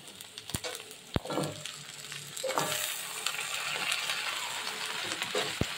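Chopped greens go into a pan with taro, potato and eggplant and are stirred, a moderate sizzle rising under several sharp clinks and scraping strokes, with no one speaking.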